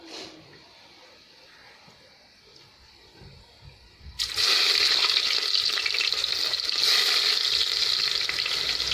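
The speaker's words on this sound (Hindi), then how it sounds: "ये गरम मसाला साबुत तेल के अंदर डाल दिया पघार के लिए।" Whole garam masala hits hot mustard oil: after a few quiet seconds a sudden loud sizzle bursts up and keeps crackling steadily to the end.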